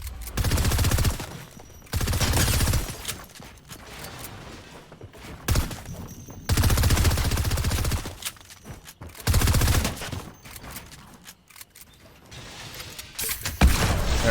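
Bursts of rapid automatic fire from a gold SCAR rifle in a video game come in several loud volleys of a second or two each, separated by quieter gaps.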